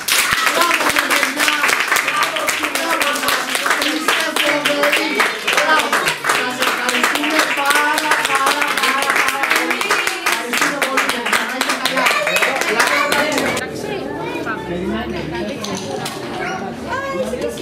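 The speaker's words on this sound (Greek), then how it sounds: "Θέλουμε να δώσετε ένα τεράστιο χειροκρότημα για τους εαυτούς σας." Kindergarten children in Korthi, Andros, clap for themselves after a National Theatre performance; busy, close-up applause mixed with chatter runs steadily for over ten seconds, then cuts off as adults speak.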